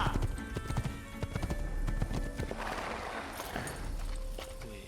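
Horse hooves clip-clop at a steady walking pace in Assassin's Creed, loud and near, with a faint whinny and soft ambient game noise behind, no speech.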